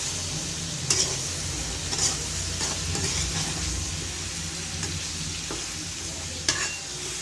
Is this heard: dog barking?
no